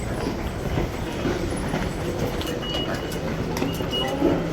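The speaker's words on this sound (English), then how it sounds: "I am going to board Eureka Mome train, which is an automatic train" An automatic commuter train rolls through a station at morning rush hour with a steady rumble and rhythmic clatter of wheels, faint squeals and clicks over a constant mechanical noise.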